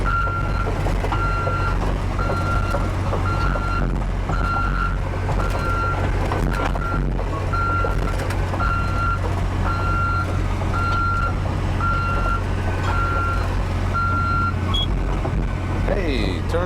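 A truck's reversing beeper sounds a regular string of evenly spaced electronic beeps over a loud, constant diesel engine rumble, close by, while hauling a 2000 Cat 322B excavator; the beeps continue steadily throughout.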